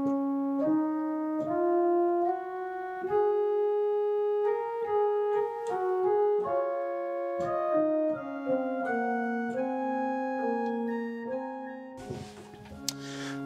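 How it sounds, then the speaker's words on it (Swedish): Sustained pipe organ tones from an 8-foot principal stop with facade pipes, on the historic Cahman organ at Lövstabruk, playing a slow melodic line of steady, rich notes alone, ending with a brief noisy burst. "I fasaden sitter orgelns viktigaste stämma som är en principal åtta."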